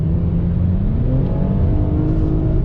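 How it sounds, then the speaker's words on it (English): A 2020 Toyota Camry TRD engine revs steadily under throttle, a loud, continuous drone with rising engine tone and no talking. "one last time on throttle. Great sound coming from this TRD Camry."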